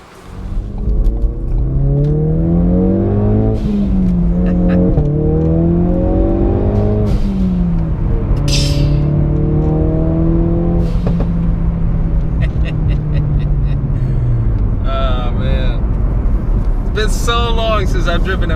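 A heavily modified Ford Focus RS with a manual gearbox being driven, the engine revving loudly and climbing through gears, with rising and falling pitch sweeps at each shift, heard from inside the car while someone talks over it.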